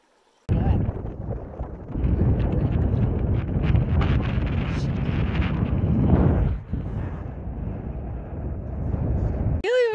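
Strong wind buffets the microphone on Gunsight Pass in the Wind River Range, a loud continuous roar that surges and dips, ending with a brief sharp noise.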